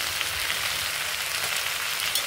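Sliced onions frying with small puthi fish in a pan for a fish chochchori, a dense, even hiss and sizzle, loud and close, continuing without pause and with no voices.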